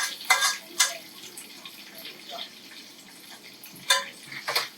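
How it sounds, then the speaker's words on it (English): Hot oil poured over soy sauce, sesame oil and red pepper flakes in a heat-proof bowl, giving brief crackling sizzle bursts with clinks and quieter gaps, close and moderately loud. "There it is sizzling in there."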